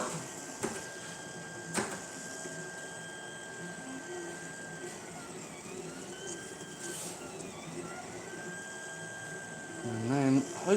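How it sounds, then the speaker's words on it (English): A 3D printer lays down a skirt line around the print bed before the part begins, its stepper motors whining in sliding tones over a constant fan hiss, with a couple of sharp clicks and a louder burst near the end. "at the moment it's printing what's called a skirt."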